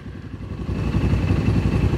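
A motorcycle engine revs toward high RPM, its throbbing pulses growing louder and denser over two seconds, heard close and alone without voices.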